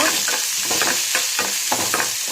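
Sliced small shallots sizzle in a hot pan for kollu sundal while a spoon stirs them in quick repeated scrapes, close and steady over a constant frying hiss.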